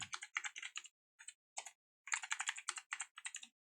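Someone types a password on a computer keyboard, with quiet, close clusters of rapid key clicks broken by short pauses.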